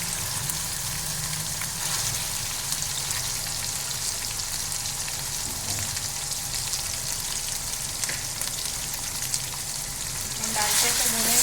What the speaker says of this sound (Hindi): हम चिकन डाल के भूनेंगे।